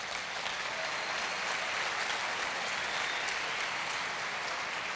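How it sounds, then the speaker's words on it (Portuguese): A church congregation applauds steadily, a fairly quiet, even wash of many hands clapping at a distance that continues unbroken for the whole stretch. "Pode aplaudir."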